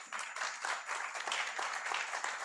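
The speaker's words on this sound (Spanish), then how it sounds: "al maestro de la asociación, Pablo Linares, un aplauso para él." A crowd breaks into steady applause, many hands clapping together in a continuous patter at moderate volume, with no talking over it.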